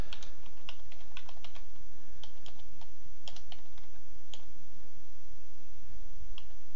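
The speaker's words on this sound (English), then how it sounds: "If I can spell, if I can type," Computer keyboard typing comes in quick irregular bursts of crisp clicks and key taps, close and clear over a faint background hiss, with a pause and then a final few keystrokes.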